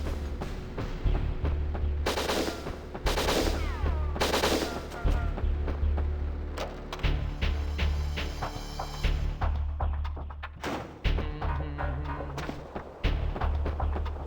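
Repeated gunfire from the video game Winback: Covert Ops, bursts of shots and machine-gun rattle over a low game soundtrack, loud and close, with brief thuds between volleys.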